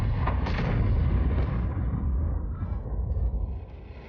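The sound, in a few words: artillery fire in World of Tanks video game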